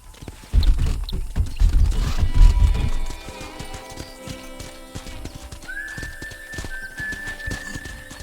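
Horse hooves clip-clop at a brisk pace in the Red Dead Redemption video game, loud and close for about three seconds, then fading to quieter hoofbeats with a faint whinny and a sustained tonal hum later on.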